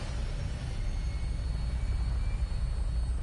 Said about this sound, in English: Stand by for takeoff.